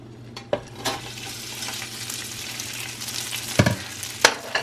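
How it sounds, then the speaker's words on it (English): Leftover rice frying in browned butter in a pan for hibachi-style fried rice, a steady close sizzle broken by a few sharp scraping stirs and clanks, with no talking. "I already have the butter in there and it's already getting brown. I'm gonna put the old rice inside."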